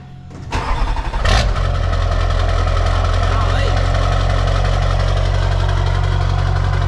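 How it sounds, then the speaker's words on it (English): A car engine cranks and fires up, then settles into a loud, steady rumble with a throaty, louder aftermarket exhaust that continues to the end. "Next thing, fire it up."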